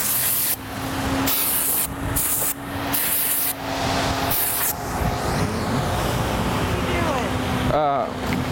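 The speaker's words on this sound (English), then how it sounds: "It's a black spray." An aerosol can of black spray paint hisses in several short bursts, loud and close, followed by quieter background noise and a faint squeak.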